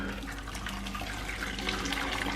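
Steady trickling and splashing of water draining from a hop basket during home brewing of mango IPA beer, continuous and close, with no voices.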